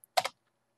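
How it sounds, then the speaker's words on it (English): A short burst of several quick keystrokes on a computer keyboard while entering numbers into spreadsheet cells, faint and close, with silence after. "I'm just typing into the cells and hitting return when I finish the typing."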